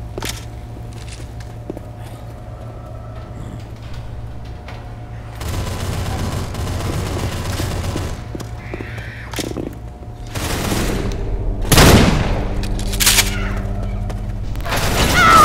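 Assault rifle gunfire in the video game Diescraper Redux: rapid bursts of shots, sparse at first, then denser volleys and sharp booms toward the end, loud and close over background hum.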